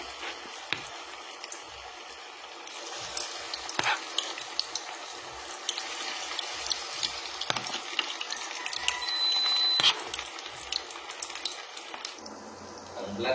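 Meatballs fry in hot oil in a pan, giving a steady close sizzle and crackle throughout with occasional clinks and stirring sounds, no talking.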